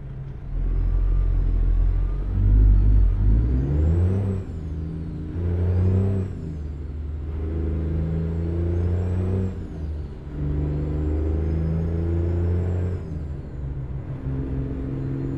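A semi truck in American Truck Simulator, a Peterbilt 389 glider, rumbles loudly as its engine revs and climbs through repeated gear shifts, each rise dropping back with a brief pause before pulling again.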